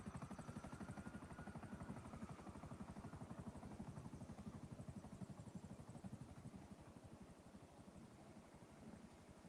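A helicopter in the Flight Simulator video game drones with a steady, rapid rotor chop and engine whine, a constant rhythmic thumping held at even volume throughout, with no talking.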